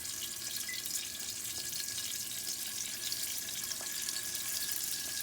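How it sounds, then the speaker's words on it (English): Boiled pasta for cacio e pepe is drained in a kitchen sink. Water pours out in a continuous, rushing splash heard close by for a few seconds. "So we drained the pasta"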